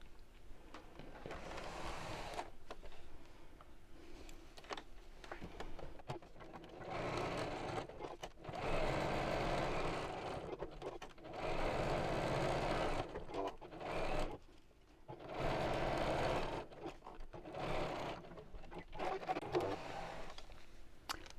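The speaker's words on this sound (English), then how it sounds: "we're going to sew all the way around the edge" Sewing machine stitching around the edge of a handmade fabric gift envelope, running in bursts of steady whirring stitches with short pauses between, close and fairly quiet.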